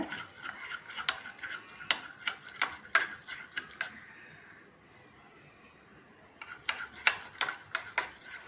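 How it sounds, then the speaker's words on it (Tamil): A spoon clinks and taps against a glass or cup while stirring instant coffee powder with a little water, in quick rhythmic bursts, a pause, then another round of close, crisp clinking. "தண்ணி சேர்த்து இதை நல்லா மிக்ஸ் பண்ணிக்கோங்க"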